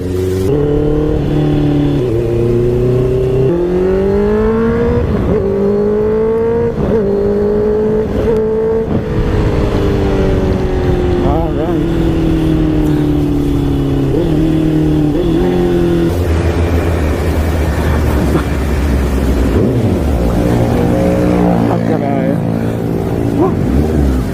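Onboard a Honda CBR650R motorcycle, the engine roars loudly and close, revving up through gears with repeated rising pitch sweeps, then settling and climbing again.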